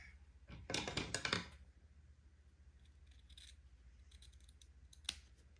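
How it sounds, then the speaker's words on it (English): Fabric scissors slice diagonally through two ribbons held together while finishing a baby bonnet, giving one crisp cluster of close snips, then a single short snip after a pause. "I want to cut a diagonal line through both ribbons at the same time."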